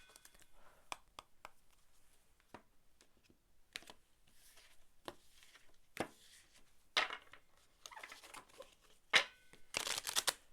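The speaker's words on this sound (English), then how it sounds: "Whoops, bad shuffle. I've been shuffling abominably this video." Oracle cards from an Ancient Stones deck are shuffled and riffled in scattered, dry bursts, growing louder and busier toward the end, with quiet clicks and pauses between, close up and without talk.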